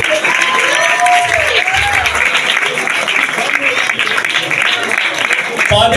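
A church congregation at a Christmas celebration claps loudly and continuously, a dense wash of applause with faint tonal sounds and brief murmurs mixed in.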